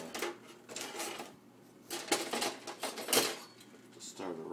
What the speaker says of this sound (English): Once the rice is in there, it's better to use a fork to stir in there.